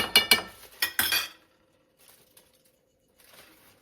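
Frozen kofta being taken out and arranged gives a quick cluster of sharp clinks and knocks in the first second, followed by near silence with only faint handling noises.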